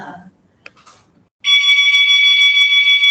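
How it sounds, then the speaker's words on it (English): A wheelchair alarm used in dementia care, demonstrated by pressing a button, sounds as a loud, continuous high-pitched electronic tone that starts abruptly after a brief moment of quiet handling noise and carries on steadily. "So I can demo you the wheelchair alarm."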